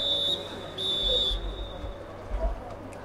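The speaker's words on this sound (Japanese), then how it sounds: "ここでホイッスル" Referee's whistle at an American college football game, two short sharp blasts close together near the start, with a distant crowd murmur and low rumble underneath.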